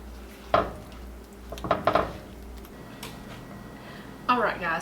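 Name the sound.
tossing chipotle steak bites with parsley in a skillet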